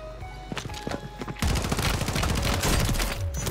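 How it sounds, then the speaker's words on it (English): Rapid, continuous automatic fire from a Kastov LSW light machine gun in a first-person shooter video game, loud and close, with scattered single shots giving way after about a second and a half to a dense, unbroken minigun-like burst. "I got the minigun, boys."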